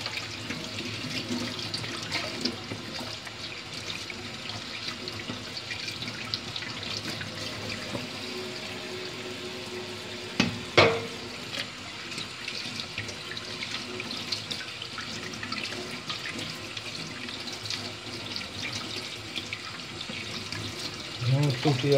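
Warm tap water runs steadily into a sink while homemade fishing bait is rinsed by hand, with occasional small splashes and a faint clink partway through.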